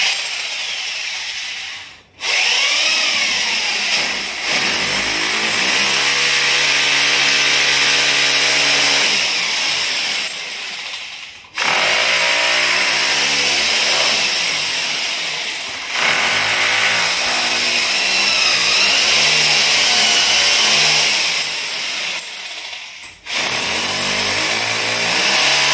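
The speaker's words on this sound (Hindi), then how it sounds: "चलिए आप ड्रिल मारेंगे।" Power drill boring into a wall to fit a bracket for a 65-inch TCL QLED TV, a loud sustained whine in several long bursts with brief pauses, close and continuous with no talk.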